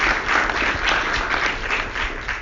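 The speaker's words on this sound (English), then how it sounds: "Let's give Connor a round of applause." A town hall audience in Hanover, New Hampshire breaks into steady applause, a dense wash of clapping from many hands that holds at an even, fairly loud level with no pauses.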